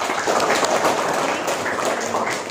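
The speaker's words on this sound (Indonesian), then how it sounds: "Kasih aplaus dulu untuk kelompok" A classroom of university students applauds a student group during a biology lesson: dense, steady clapping from many hands, loud and close, with no pauses.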